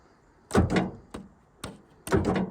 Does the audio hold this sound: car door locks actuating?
yes